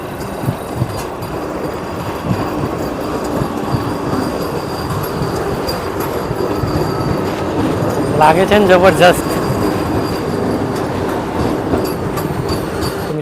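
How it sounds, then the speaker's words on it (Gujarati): A train rolls past near a Gandhinagar station beneath a hotel, a steady rumbling clatter of wheels on rails with a brief metallic squeal midway, while someone speaks over the noise. "સામેથી એક ટ્રેન પણ આવી રહી છે."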